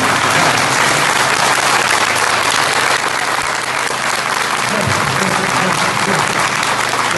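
Dense, loud applause from a large audience saluting a government commissioner at a public event in Haiti, steady and sustained throughout without pause.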